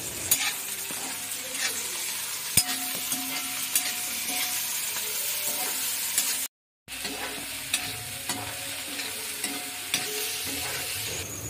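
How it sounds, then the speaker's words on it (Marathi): A tomato, chilli and ginger mixture sizzles in a pan under steady stirring, with rhythmic scrapes and occasional clinks close by. A sharp knock comes early and a brief silence falls midway. "आता आल्याचे तुकडे पण आतमध्ये टाकून घेऊया आणि चांगले ढवळून घेऊया मिश्रण"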